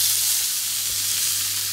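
Lamb chops marinated in garlic and rosemary fry in olive oil, giving a steady, close, bright sizzle and hiss with a low hum beneath.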